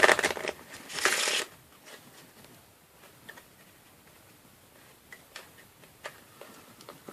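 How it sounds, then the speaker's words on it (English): A deck of cards is riffled in one loud burst at the start, followed by quieter ticking and light handling sounds. "and I'll give the deck some shuffles."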